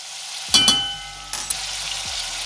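Garlic dropped into a hot pan with a little bacon fat, giving a sudden loud sizzle burst that settles into a steady fry, with a couple of sharp clinks and stirring movements afterward.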